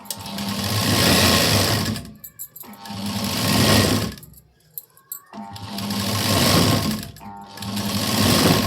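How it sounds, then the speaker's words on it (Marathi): A sewing machine runs double stitching along a sleeve in close, loud bursts of rapid whirring needle strokes, broken by short pauses where the cloth is repositioned. "आता इथे डबल शिलाई देऊन घेऊया."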